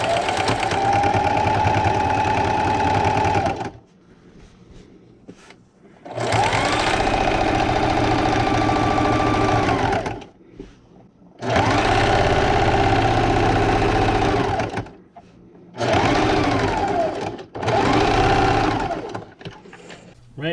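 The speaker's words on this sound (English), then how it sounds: "I'm just going to take this over to my sewing machine, and I'm just going to quilt by stitching in the ditch" Sewing machine straight stitches in the ditch through a quilted table runner, running in four sustained bursts of steady whirring needle hum separated by quiet pauses.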